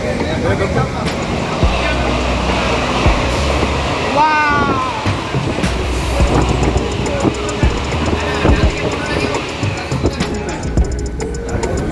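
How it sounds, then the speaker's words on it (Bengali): A local train from Barddhaman to Howrah rumbles along at speed, wheels clattering and carriages rattling loudly, with occasional squeals and shuffling nearby. "ট্রেন ছাড়ার সঙ্গে সঙ্গে দেখুন লোকাল ট্রেনটি তার স্পিড নিয়ে নিয়েছে"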